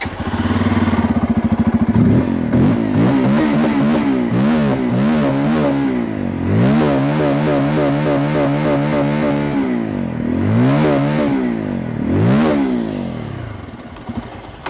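A Bajaj Pulsar N250 motorcycle revs repeatedly, its exhaust note rising and falling in several loud, close sweeps from idle through sharp throttle blips.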